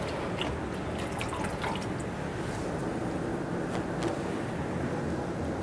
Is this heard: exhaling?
no